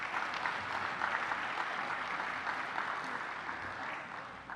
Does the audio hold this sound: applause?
yes